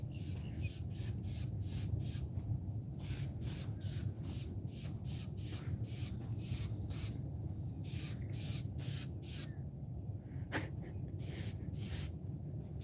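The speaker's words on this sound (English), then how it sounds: "Bird sounds upset up here." Birds at Circle B Bar Reserve give agitated, repeated calls in a steady series of short bursts, fairly faint and distant over a hissing outdoor background, with no speech.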